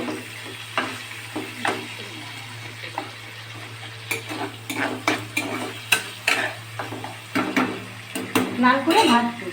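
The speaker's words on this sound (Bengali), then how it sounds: "লাল করে ভাজবো" Garlic and green chillies fry in a pan under a soft, continuous sizzle, broken up by repeated sharp clacks and scrapes of a utensil stirring against the pan.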